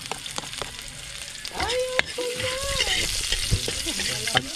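Ginger and garlic sauté in hot oil for a duck curry, a steady close sizzle broken by several sharp clinks of a utensil against the pan, with faint voices in the background.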